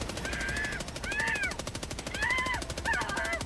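Rapid continuous gunfire from a video game weapon, a dense steady rattle lasting the whole stretch, with bright electronic tones and chirps rising over it in short bursts.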